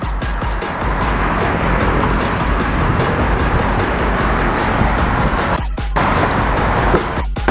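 A loud, steady Chevrolet Spark engine with an aftermarket exhaust rumbles with a deep, throaty tone, holding a constant idle-to-rev drone for several seconds with no talking.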